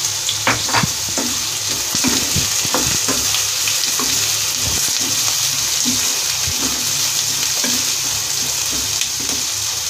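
Onions sizzling and frying in hot oil with cumin seeds, a steady broad crackling hiss with scattered stirring clatters throughout, close and fairly loud.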